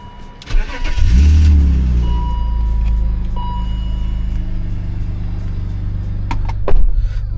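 A 2002 BMW E39 530i engine cranks and fires up with a loud burst, then settles into a steady close rumble, with a few clicks near the end.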